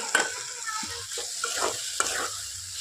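Chopped onions drop into a sizzling spice masala for an onion curry, giving a bright frying hiss with a few short stirring scrapes and clinks, close and steady over the brief moment.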